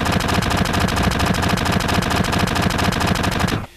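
Rapid, loud machine-gun fire aimed at Barrett in Final Fantasy VII, one unbroken rhythmic burst of evenly spaced shots that cuts off abruptly just before the end.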